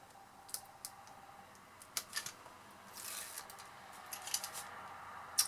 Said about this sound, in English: And then we're just going to take that tape off there